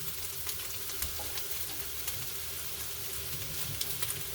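SPAM hash sizzles gently in a frying pan, a quiet, steady crackle dotted with occasional small pops and faint stirring sounds.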